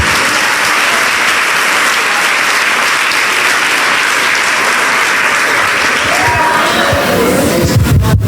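Loud, dense clapping from a church congregation during a Portuguese sermon, with some cheering mixed in, continuous throughout before the sound changes near the end.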